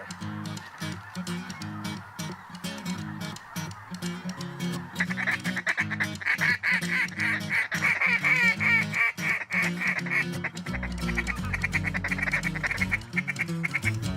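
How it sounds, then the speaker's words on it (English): A large mixed flock of geese in flight over a duck hunt, including specklebellies, snow geese and lesser Canada geese, honking loudly and continuously in a dense, overlapping chorus that swells as the birds come closer. "all of a sudden, here come the geese. Specks, snows, lesser Canadas, you name it, they were there"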